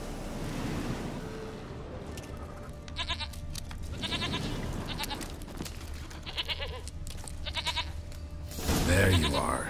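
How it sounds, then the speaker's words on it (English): A goat bleats repeatedly in the fantasy game The Witcher 3: Wild Hunt, several wavering calls at a moderate distance over a wash of wind or surf-like ambience, with someone speaking briefly. "Here, goat."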